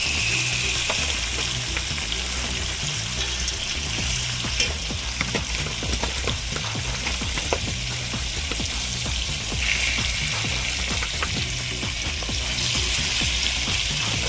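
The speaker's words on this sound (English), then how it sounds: "now I'm just mixing around the curry so that it can be put together" Curry being stirred in a pot while it fries for a Jamaican-style crayfish dish: a steady loud sizzle with repeated scraping and clinking of the spoon against the pot throughout, no talking.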